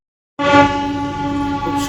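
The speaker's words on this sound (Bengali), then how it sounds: "বন্দে ভারত স্লিপারে আমরা উঠছি, এখান থেকে হাওড়া থেকে আলিপুরদুয়ার পর্যন্ত" A Vande Bharat sleeper train at Howrah station sounds a loud, steady, horn-like tone that starts abruptly and holds for about a second and a half.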